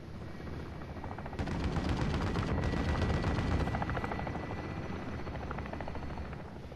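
A helicopter drones heavily in Call of Duty: Modern Warfare as a chopper gunner fires steady rapid bursts, loud and continuous over the rotor wash, with no voices.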